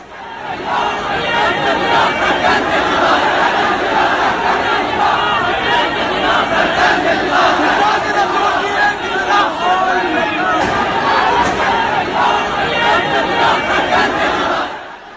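An angry mob of people outside a building shouts and chatters together, a loud, dense wall of raised voices that never lets up and carries no distinct single speaker.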